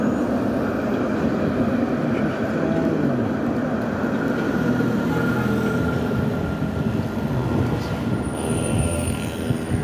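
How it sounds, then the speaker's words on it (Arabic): A tram passes along a city street in Casablanca, rumbling steadily on its rails with a faint high wheel squeal, heard up close and continuous with no talk. "هذا ترام غادي البرنوصي."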